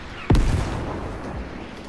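A single loud rocket blast from Fortnite hits sharply, then a rumbling, debris-filled tail fades with a smaller second boom, and no one speaks.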